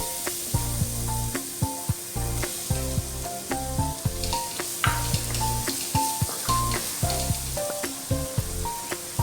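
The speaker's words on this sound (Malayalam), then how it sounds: "നമ്മൾ ചോപ്പ് ചെയ്ത് വെച്ച നമ്മുടെ ഒരു സബോള ഇതിലേക്ക് ഇട്ട് കൊടുക്കാം." Chopped onion fries in a pan for matar paneer masala, a constant close sizzle broken by frequent clinks and scrapes of a stirring utensil against the pan, with no talking.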